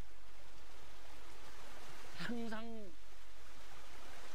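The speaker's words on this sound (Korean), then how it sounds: "이 물소리가 다른 사람들은 시원한 물소리로 생각하는데" Water from a mountain stream in Pyeongchang rushes in a steady, even hiss throughout, with a short spoken word briefly heard over it midway.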